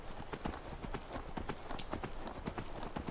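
Horse hooves clip-clop at a steady walking rhythm while riding in the video game Skyrim, a continuous moderate patter of hoofbeats with a faint game ambience behind.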